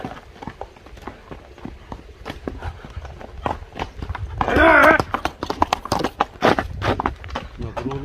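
A black horse running and turning, with rapid clip-clop hoofbeats in irregular bursts on ground, close and fairly loud, and a neigh-like cry in the middle; people talk in the background.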